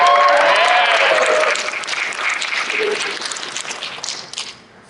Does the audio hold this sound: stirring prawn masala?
no